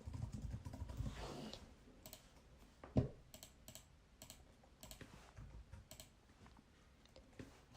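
Computer keyboard keys pressed for a Ctrl+Shift+B shortcut while coding a Python game, quiet scattered clicks with one sharper tap in the middle, close up and without talk.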